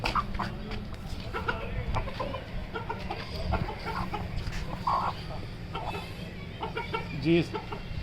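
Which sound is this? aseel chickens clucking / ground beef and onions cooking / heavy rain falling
aseel chickens clucking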